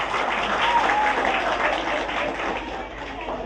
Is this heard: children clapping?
yes